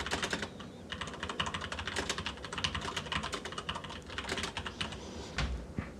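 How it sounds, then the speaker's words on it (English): Dense, rapid clicking from fingers typing on a clicky computer keyboard, keystrokes running continuously and fairly close with no talk over them. "I have a keyboard that's less clicky that I use just for this show"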